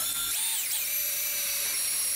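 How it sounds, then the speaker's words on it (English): A power drill bores a hole through sheet metal into the wood beneath, down to the depth of a pop rivet, giving a steady high-pitched whine with a brief rising then falling pitch sweep near the start, close and alone. "drill a hole through the metal into the wood at the same depth of the rivet itself"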